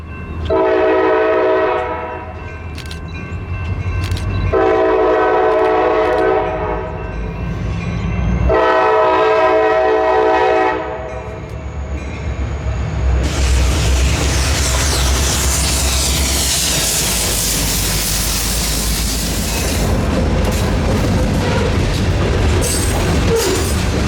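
A CSX freight train led by YN2-painted EMD locomotives sounds three long, loud horn blasts, then rumbles past close by with a rising roar of engines and rolling wagons.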